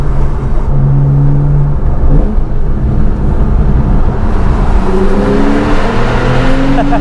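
A Porsche 911 991.1 Carrera S on Michelin PS4S tires drives through a tunnel, its engine a loud, steady roar with rising and falling tones as it revs between gears, filling the enclosed space.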